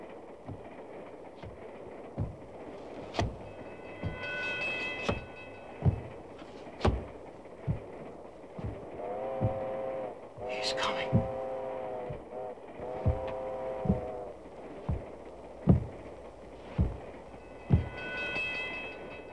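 A train in a 1937 film serial rolls along the rails with steady, rhythmic clacks over the track joints, and a sustained horn-like tone sounds partway through.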